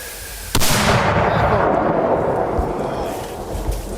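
A single loud artillery blast erupts suddenly, followed by a long rumbling roar and echo that slowly fades over several seconds.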